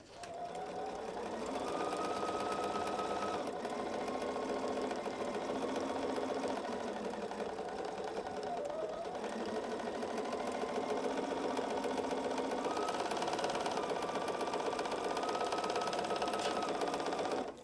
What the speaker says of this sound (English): Let's go sew this seam right here and see what we got.